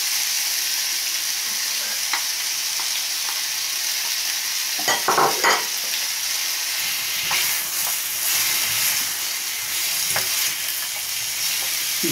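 Chopped bell pepper fries in a pan for seafood rice, giving a steady close sizzle and hiss broken by a few clatters and stirring scrapes partway through.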